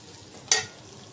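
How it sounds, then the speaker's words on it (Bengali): Onions being lightly fried in a pan for a bitter gourd and potato dish, with a single short burst of stirring sizzle near the middle over a faint background. "হালকা করে ভেজে নেব পেঁয়াজ"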